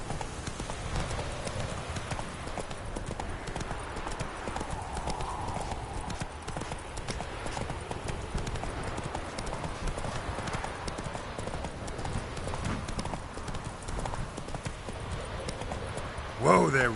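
Hooves of Roach, Geralt's horse in The Witcher 3, clip-clop in a steady walking rhythm throughout, moderately close, with game ambience and occasional voices underneath.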